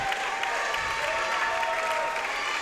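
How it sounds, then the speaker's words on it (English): Home fans at a high school girls' basketball game applaud a player who has fouled out, a steady, full wash of clapping across the gym that continues without a break. "as Southeastern fans give her an applause"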